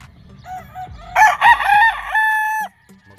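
A brown red broodcock gamefowl rooster crows loudly and close by, one long drawn-out call with a few soft clucks before and after.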